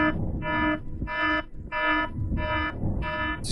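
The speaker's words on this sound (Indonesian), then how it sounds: "Pak He nggak dengar suara alarm" Repeating electronic alarm tone sounding in about six evenly spaced pulses, each roughly half a second long with short gaps between, loud and steady, with a low rumble of background noise underneath.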